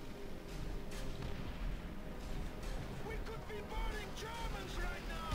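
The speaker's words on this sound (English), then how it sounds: "Yeah, I'm getting blown up here." Explosions hit the player's tank in Call of Duty: World at War, with booming blasts and rumbling artillery under a continuous dense battle din and some voices.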